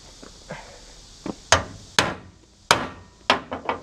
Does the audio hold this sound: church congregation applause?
no